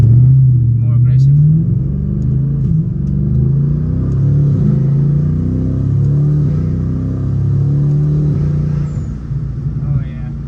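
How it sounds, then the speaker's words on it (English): An Audi 4.0 TFSI V8 with a 310 stainless steel turbo manifold rumbles and revs close by, its deep engine note rising and falling in slow waves while someone talks over it. "the sound of the car definitely way better, more aggressive"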